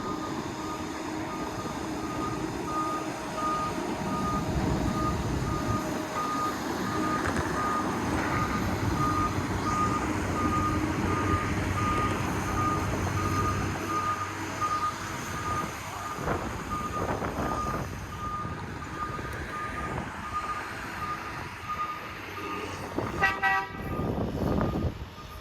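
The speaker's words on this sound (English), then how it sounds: "here's a view from the sidewalk on the bridge of the shuttle wagon departing back to the staging area" A shuttle wagon truck on a bridge construction site reverses with a steady, repeating backup beep, heard from a sidewalk over a continuous rumble of engine and traffic. A short burst of clatter comes near the end.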